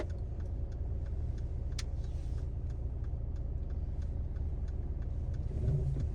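Interior of an Infiniti Q30 Premium while driving and steering, a quiet steady low engine and road hum with a few faint ticks, no talking.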